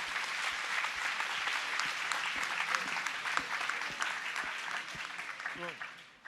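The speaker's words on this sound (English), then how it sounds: "You can clap for that, please" Audience applause at a business school conference hall, a dense, steady wash of many hands clapping throughout, with a few voices faintly audible beneath.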